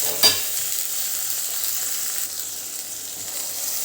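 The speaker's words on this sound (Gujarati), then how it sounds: "ડુંગળીને લસણ સંતળાઈ ગયું છે, તો એની અંદર આપણે આ ટામેટાં એડ કરી દઈશું।" Chopped tomatoes sautéing in a pan with onion and garlic, a steady close sizzle with a brief clink at the start and occasional stirring, no talk.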